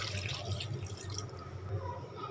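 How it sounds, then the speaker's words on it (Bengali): Water pouring into a tilapia curry pan, a soft continuous splashing and gurgle, fairly quiet and close. "এখন পরিমাণ মতো পানি দিয়ে দিচ্ছি"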